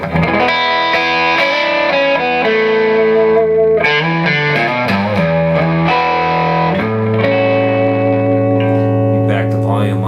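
A heavily distorted Gibson Les Paul Custom electric guitar plays sustained chords and riffs, loud and continuous with a thick, saturated tone.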